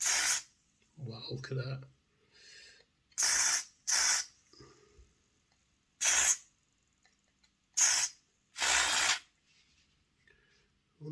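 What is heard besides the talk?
contact cleaner sprayed on HO model train motor commutator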